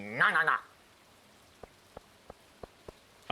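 Green rain falling in the video game Stardew Valley, sparse single drops ticking at intervals over a quiet hiss, after a brief voice at the start.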